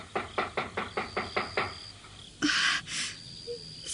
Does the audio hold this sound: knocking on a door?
yes